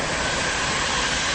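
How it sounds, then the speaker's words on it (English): A train rolls past close by in a steady, continuous broadband rumble and rush that holds at an even loudness, with no voices over it. "Just let a train go past."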